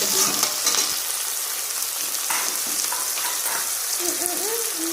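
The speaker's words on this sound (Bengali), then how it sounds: "এবারে হালকা করে কষাতে, বেশি কষাতে হবে না, টমেটো দিয়ে" Chopped tomatoes and green chili sautéing in a pan, with a loud continuous close sizzle and crackle, a few stirring scrapes, and faint tonal sounds toward the end.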